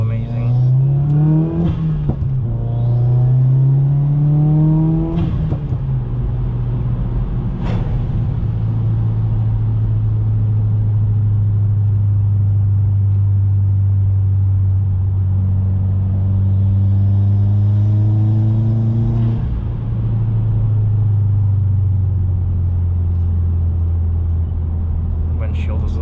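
A Subaru WRX drives along with a steady low engine drone, rising and falling through revs and gear changes early on, then settling into a sustained cruise rumble with faint speech over it.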